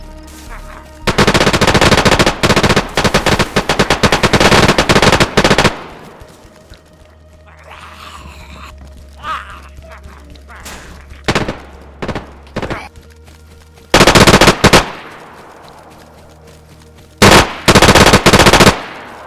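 Rapid bursts of automatic gunfire ring out while shooting zombies in the video game DayZ: loud, close, repeated volleys separated by short pauses and a stretch of quieter rustling.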